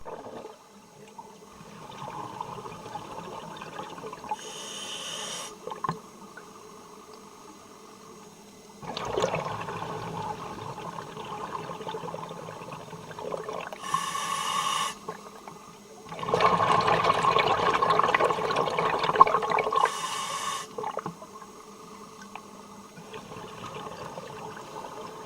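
Underwater bubbling from divers' exhaled air escaping in streams through deck openings of the SS Thistlegorm shipwreck in the Red Sea, heard as repeated surging bursts of gurgling rush with quieter breathing-like gaps between.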